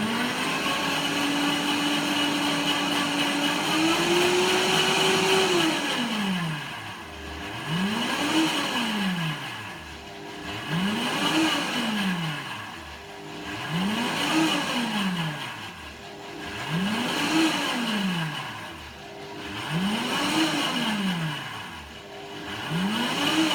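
A BioChef Living Food blender grinds coffee beans, a loud motor whine that first climbs in pitch, then surges up and down in repeated cycles roughly every three seconds as the speed is varied.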